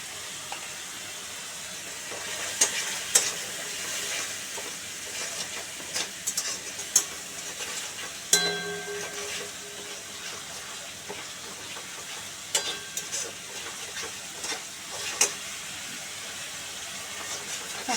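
Spice paste for a thin chicken curry sizzling and being stirred in a pan, a continuous hiss broken by sharp scraping clicks from the spoon, with no talking.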